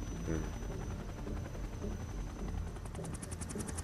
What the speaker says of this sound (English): like 5 helicopters.